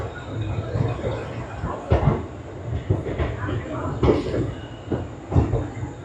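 A moving passenger train pulls away from Shalimar station at night with a steady, close rumble of wheels on rails, broken by heavier rhythmic clunks every second or two.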